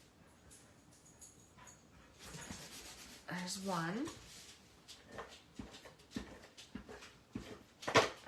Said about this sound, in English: I have puppies like wandering.